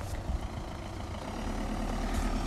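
A car engine idling close by, a steady low rumble with a constant throb that holds evenly throughout, alone with no talking.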